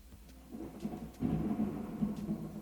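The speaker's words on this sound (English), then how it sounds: "Y'all hear the thunder?" Low, faint rumbling of distant thunder rolls through, swelling midway and lingering softly over quiet background noise.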